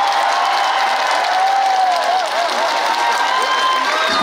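A large outdoor crowd at a trot concert during the Sorae Port festival in Siheung, South Korea, claps and cheers steadily, a dense, sustained wash of applause filling the whole moment.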